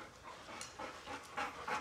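Dog panting close up with rapid, rhythmic breaths, steady and fairly loud, with a few faint whimpery tones mixed in.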